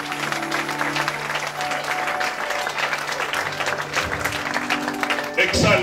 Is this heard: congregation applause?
yes